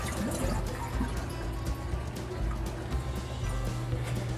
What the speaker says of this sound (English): Now flush the toilet.